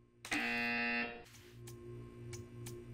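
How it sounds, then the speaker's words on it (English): A loud electronic buzzer from the video game Portal 2 sounds once for about three-quarters of a second, then cuts off, leaving a low hum and a few faint clicks. "You will hear a buzzer."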